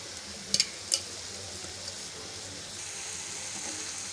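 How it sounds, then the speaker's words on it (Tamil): Cooked ridge gourd being stirred together with ground peanut spice powder in a pan, giving soft scraping and sizzling with a few sharp utensil clicks early on, then a steady quiet hiss. "பொடியோடு சேர்த்துட்டு அப்படியே கலந்து விட்டுப்போம்"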